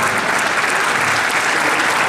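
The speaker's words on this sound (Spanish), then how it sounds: "Un aplauso de todos ustedes para Osvaldo Alveal" Dense, steady applause from a theater audience honoring folk artist Osvaldo Alveal, a continuous loud wash of many hands clapping with no gaps across the whole stretch.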